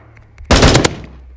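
A short, loud burst of video game gunfire, several rapid shots fused into a single blast lasting about half a second, standing alone against a faint low hum.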